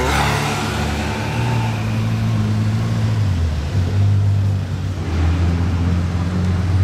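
A yellow McLaren Artura sports car drives past on a Monaco street, its engine note loud and close, dipping in pitch as it passes, then rising again with acceleration.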